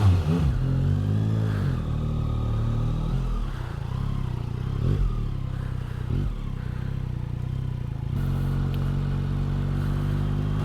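Yamaha MT09 motorcycle engine running steadily while being ridden in its most aggressive drive mode, a continuous low rumble with a few brief revs and shifts in pitch, close and fairly loud throughout.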